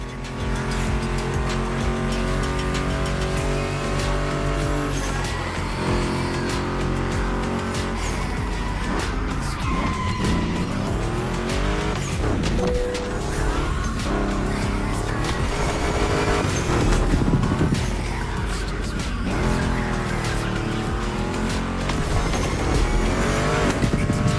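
A Ford Mustang GT muscle car races in The Crew Motorfest, its engine loud and revving through gear shifts while tires squeal and skid through turns, with traffic passing and no talk.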